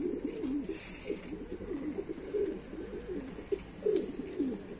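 Breeding pigeons in a coop give soft, low, repeated cooing, a steady run of throaty rolling calls over a faint background hum, with no voices.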